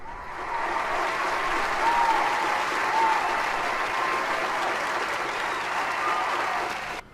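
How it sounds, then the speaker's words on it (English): Steady, dense applause from a crowd, loud and even for about seven seconds before cutting off abruptly, with no voices over it. "Applause."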